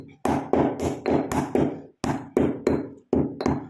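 A piece of dried turmeric root is pounded by hand, close and loud, in a steady run of about ten heavy thuds with brief pauses between strikes.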